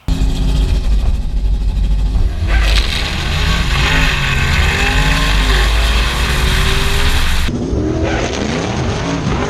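Race car accelerating hard alongside a rival car, a loud, close engine climbing steadily in pitch through the revs before dropping off sharply near the end.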